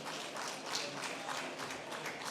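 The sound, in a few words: audience applause for a speaker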